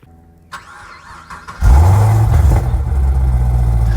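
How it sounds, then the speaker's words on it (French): A Chevrolet Camaro engine cranks briefly and fires up with a loud roar, then settles into a heavy, steady rumbling idle, heard close and without talk. "je voulais faire les coups de gaz, plutôt les coups de gaz, le démarrage"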